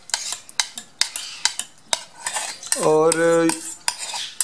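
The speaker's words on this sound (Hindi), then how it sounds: "फीड को जब भी आप पानी में डालें तो अच्छी तरीके से उसे जो है वो मिक्स करें" Spoon clinks and scrapes against a bowl while stirring parrot hand-feed powder into water, a fast series of close, sharp taps, with a brief tonal squeal partway through and a single spoken word.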